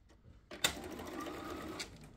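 A sewing machine starts up and runs steadily, stitching through bias-cut fabric for a quilt block with a quiet, even whir. There is a small click at the start and another near the end.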